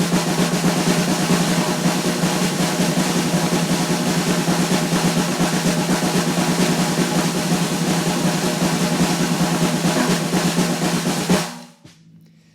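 A drum roll of double strokes, shifting from single strokes into bounced strokes and hovering at that transition point, plays as a dense, fast, steady stream at constant loudness for about eleven seconds, then stops abruptly.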